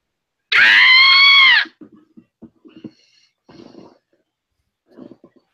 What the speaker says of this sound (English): Is that the screaming goat or what?